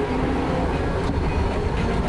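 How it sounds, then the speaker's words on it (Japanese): A steady, loud rumble of the passing Botchan Ressha tram in front of the Ehime Prefectural Assembly building in Matsuyama fills the clip, with a continuous low roar and faint rattling. "たまにぼっちゃん電車というのが走ります。"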